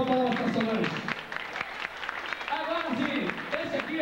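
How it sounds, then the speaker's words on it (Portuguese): Dinner guests at an anniversary celebration clap together, a moderate round of applause with a voice speaking over it and talk continuing as the clapping goes on. "Tá aí, então, palmas para Solange"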